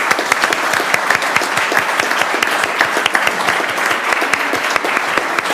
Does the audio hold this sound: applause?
yes